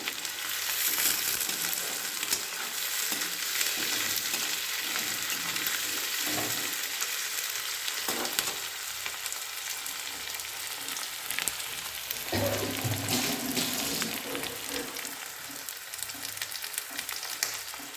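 Onion fries in a pan for spicy semolina upma, a continuous hiss of sizzling oil with a few occasional spatula scrapes, close and steady, no talking.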